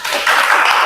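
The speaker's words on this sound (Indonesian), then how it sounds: "tepuk tangan buat Mbak Amel dengan Mas Salman ya" Brief burst of audience applause at a classroom learning session, dense clapping that swells after a moment and stays steady and fairly loud throughout.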